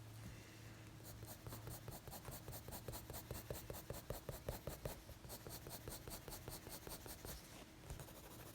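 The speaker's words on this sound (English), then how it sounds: "I'm using the lighter blue pencil and I'm blending it in with my darker" A blue colored pencil blends over paper in quick, rhythmic back-and-forth strokes, close and clear, with the scratchy rubbing rising and easing across the passage.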